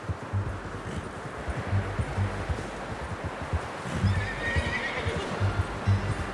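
Repeated hoof clops in a steady rhythm with an occasional horse whinny in Red Dead Redemption 2, fairly close, over a rustling outdoor background with no talking.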